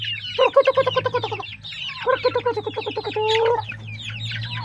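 Turkey calls up close: rapid, rhythmic gobbling bursts repeated in several runs while the turkey feeds, loud and clear against a low steady hum.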